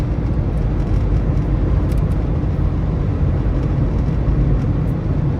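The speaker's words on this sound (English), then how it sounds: "if you reach higher speeds like these, the wind noise does become very apparent." Loud, steady broadband wind roar fills the cabin of a 1999 Daewoo Lanos driving at high speed, a constant rushing noise with no talk over it.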